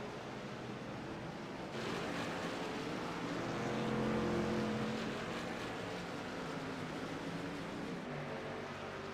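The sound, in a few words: race trucks driving on the Daytona road course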